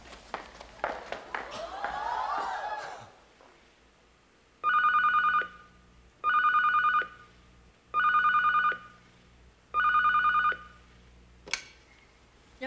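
An indoor telephone rings in four evenly spaced electronic trills of about a second each, fairly clear and close, after a brief burst of clapping and bustle.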